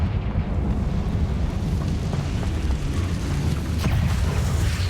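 A Confringo spell blast explodes in Hogwarts Legacy, a loud, dense rumbling roar that fills the whole stretch with sustained booming energy.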